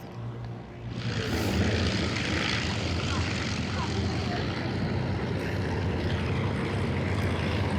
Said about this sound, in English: Fired it up and they're running it around, kind of taxiing out here in front of us.